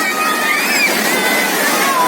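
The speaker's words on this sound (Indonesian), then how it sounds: "Air terjun rayap." The Rayap waterfall at Blang Kulam in North Aceh rushes in a loud, unbroken roar, with faint high whistles and crowd murmur running through it.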